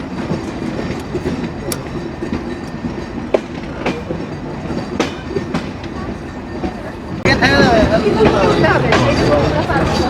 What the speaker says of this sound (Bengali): আমরা প্রবেশ করছি চুয়াডাঙ্গা জেলার চুয়াডাঙ্গা রেলওয়ে স্টেশন